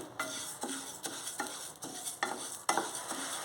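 Flax seeds dry-roasting in a pan on low heat, a quiet sizzle broken by regular scraping strokes of a spoon about every half second, close up with no voices.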